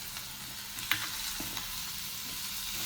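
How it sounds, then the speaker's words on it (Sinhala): Carrots, chillies and tomatoes fry with chicken gizzards in a pan, giving a soft, steady sizzle with a faint clink of a utensil and light stirring scrapes. "ඒ ටික සේරම කලවම් කරලා පොඩි වෙලාවක් මේකේ බැදෙන්න තියන්න."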